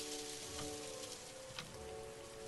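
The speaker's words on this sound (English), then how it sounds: "It's just the rain." Steady rain falling in a video game convenience store scene, a constant hiss of drops on a surface with a faint tonal hum underneath and no voices.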